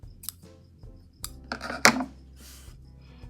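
Scissors snip through yarn while finishing a crocheted heart wallet, a few short, crisp cuts spaced out near the mic with small handling clicks between them.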